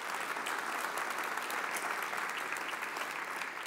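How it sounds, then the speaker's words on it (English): A large audience at a college district fall convocation applauds steadily, a dense, even wash of clapping that holds at a moderate level for several seconds with no pauses. "So that's, I think, worth a round of applause."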